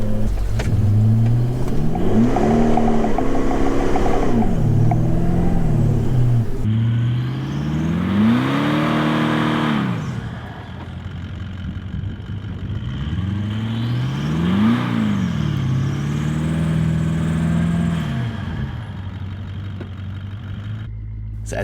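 A Toyota Land Cruiser LC200 engine revs in repeated rising and falling surges as the vehicle bogs down in sand, loud and close, with a steady mechanical whir running underneath and brief lulls between pushes.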